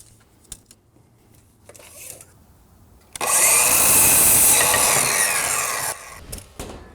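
A saw cuts battens for board and batten siding: faint clicks and handling knocks at first, then a loud, harsh ripping cut of about three seconds up close, followed by scattered light taps.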